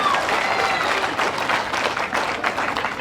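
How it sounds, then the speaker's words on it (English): Crowd applause at the 2023 World Bowls Championships women's triples final between Australia and New Zealand, a dense, steady wash of clapping from a large audience that holds at full strength for the whole few seconds. "If you play a good bowl in this match, you're going to get rewarded with, with crowd noise"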